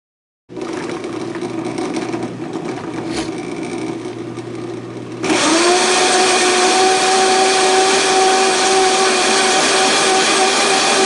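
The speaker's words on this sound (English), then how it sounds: "you can use any kind of blender that you want to that will get the kale chopped up" A blender motor whirs on after a brief silence, chopping kale, then jumps to a louder, higher, steady grinding whine partway through, close and continuous.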